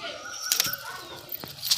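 Andhra pigeons flap their wings in a loft in Kolkata, giving a few brief, sharp flutters at moderate distance over a low background murmur.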